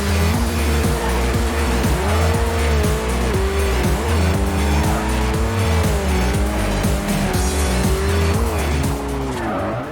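A Nissan Sylvia drifts in the racing game Forza Horizon, its engine revving hard and rising and falling in pitch while the tires squeal over a skid. The sound is loud and continuous, with no music or talk.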